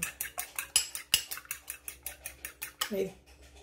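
Two eggs are beaten with sugar in a bowl for banana bread, a fast regular clinking of a utensil against the bowl repeating about fourteen times, close and crisp, with a brief voice near the end.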